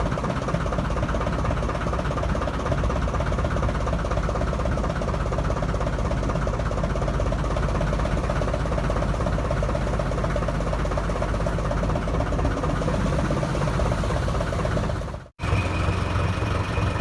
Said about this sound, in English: This boat has a truck engine in it.